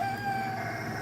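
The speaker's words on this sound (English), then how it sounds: "you guys can hear Bob in the background crowing." A rooster with purple feathers crows in the background, one sustained harmonic crow lasting the full second over a steady low hum, with no talking.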